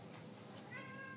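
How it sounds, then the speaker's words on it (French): A pet cat gives a short, faint meow indoors, a single brief call rising near the end against quiet room noise. "si vous entendez, là, c'est mon chat"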